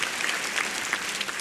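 Short burst of dense audience applause at a televised stand-up comedy grand final in Indonesia, a steady crowd clapping wash without clear speech.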